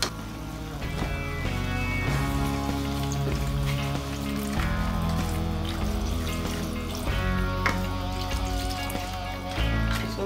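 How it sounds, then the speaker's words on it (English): Egusi soup with meat and added water cooks in a pot, giving a continuous low bubbling and simmering under a steady layer of background music. "So now we're going to leave it to boil."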